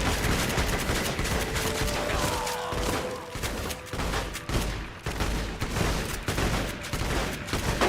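Rapid bursts of automatic gunfire and scattered shots in the game Fallout: New Vegas, modded Nuclear Winter setting, crackling continuously at close range over a steady battle din, with volleys overlapping throughout.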